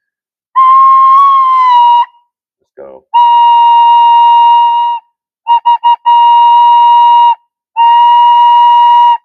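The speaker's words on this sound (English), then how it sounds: "You probably recognize that sound as a recorder." A recorder plays several sustained, pure, flute-like notes close up, separated by pauses and a brief quick trill, with a short spoken remark between.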